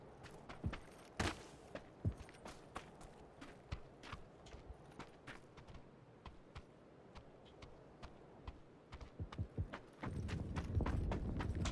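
Footsteps in the video game PUBG, a run of sharp regular steps close by with a few louder hits, fairly faint overall, ending in a louder burst of rough noise near the end.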